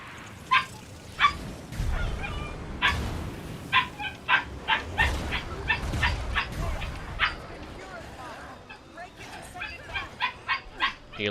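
A dog barks in a string of sharp, repeated yips and woofs, close and fairly loud, with talking at a gaming session mixed in.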